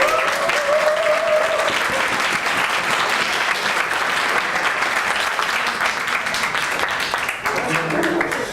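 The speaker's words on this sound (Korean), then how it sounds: "박수 한번 부탁드립니다." A crowd at a startup competition awards ceremony applauds steadily and fairly close, a dense wash of clapping that keeps going the whole time, with a few voices faintly underneath.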